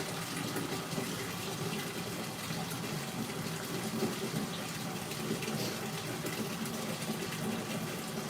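Water gushes steadily from a tap into a tub holding a euphonium, a loud, unbroken rushing fill with no pauses.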